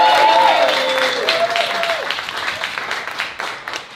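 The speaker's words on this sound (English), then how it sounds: "give y'all a round of applause one last" Audience applause for poets after a poetry reading, a room of clapping that starts full and gradually thins, with a whistle or vocal tone sliding over the opening seconds.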